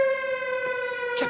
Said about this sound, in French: C'est une alarme.